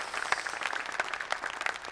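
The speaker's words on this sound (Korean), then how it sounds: "박수 한번 주시죠" Studio audience applause at a televised debate with a provincial education superintendent in Jeonbuk, a brief spell of moderate, even clapping from a seated crowd.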